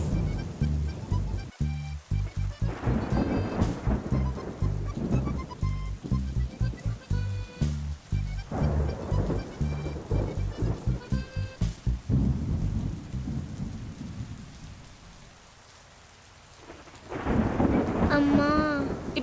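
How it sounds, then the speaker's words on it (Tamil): Heavy rain falls during a thunderstorm, with loud rolling thunder and a dense, rhythmic pattern of pounding bursts. The rain briefly thins to a quieter hiss before surging back strongly, with no clear talking. "வெள்ள மழை பெய்யுது, குளிருதுடி."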